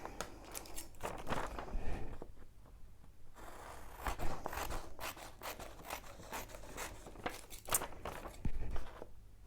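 Scissors snip through paper card to cut out a thank-you piece for a pop-up card, in a series of close, quiet cuts and rustles with brief pauses between bursts.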